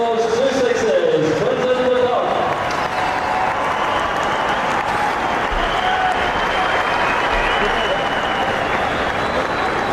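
Stadium crowd at Centurion applauds a batsman's one-day international century against India, a broad roar of clapping and cheering under a commentator's voice.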